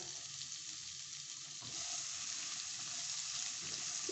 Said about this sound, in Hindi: इसको 2 मिनट के लिए फ्राई करेंगे।